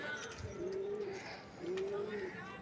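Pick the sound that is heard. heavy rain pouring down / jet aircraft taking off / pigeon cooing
pigeon cooing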